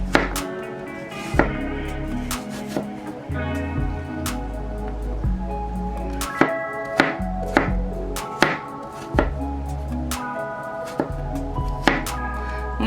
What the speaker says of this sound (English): Next, you just want to take your pieces and slice them out.